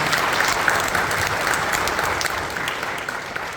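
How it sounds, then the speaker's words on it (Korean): A church congregation at an afternoon worship service claps together, steady and dense throughout, a broad wash of applause that thins slightly toward the end. "박수 쳐주세요"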